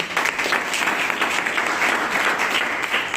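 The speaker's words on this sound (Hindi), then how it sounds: "जोरदार तालियां" Dense, steady applause from a crowd at a business gathering, sustained at full strength for about three seconds with no talking over it.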